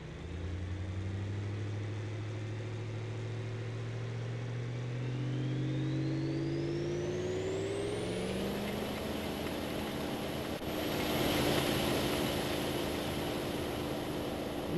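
A nearly 1,000-horsepower engine on a pulling truck strains during a BeamNG video game truck pull, its tone climbing steadily as it revs harder, loud and alone with no talk.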